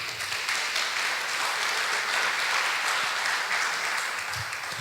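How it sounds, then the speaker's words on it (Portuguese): Church congregation clapping in praise during a service, a continuous wash of many hands at moderate loudness, steady from start to finish with a few low thumps. "Dê uma salva de palmas ao Senhor aí."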